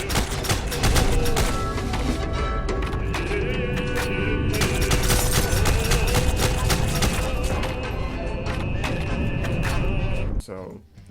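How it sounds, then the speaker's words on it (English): Rapid automatic gunfire in a first-person shooter, dense overlapping bursts and booming impacts that run nearly nonstop, loud and close, with a voice talking underneath. "especially if you keep firing this weapon while you're following soldiers"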